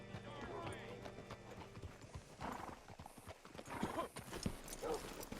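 In Red Dead Redemption 2, a horse's hooves clip-clop at a walking pace and the horse gives a whinny. The sound is faint, with muffled voices underneath.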